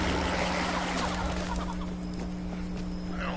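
Chickens in Fallout 76 keep up a busy chorus of clucks and squawks that slowly thins out, with a constant low mechanical hum underneath.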